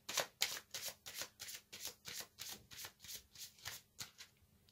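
An aromatic oracle card deck is shuffled by hand with a steady run of soft, papery riffles, about a dozen quick strokes close by and fairly quiet, tapering off at the end.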